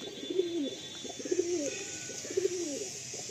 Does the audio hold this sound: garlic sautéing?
no